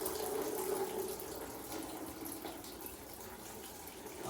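Coolant squirts and splashes out of a KTM 450 SX-F dirt bike in a steady, hissing liquid stream, moderately faint and continuous, with slight fluctuations and no talking.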